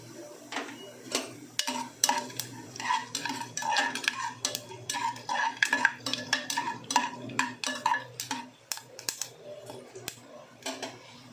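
Bay leaf and whole spices dropped into hot oil in a pressure cooker for coriander rice, with scattered sharp crackles and metallic clinks of a spoon against the cooker, a voice talking over it.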